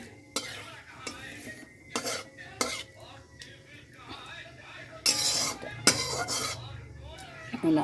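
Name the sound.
potatoes frying with whole spices, stirred in pan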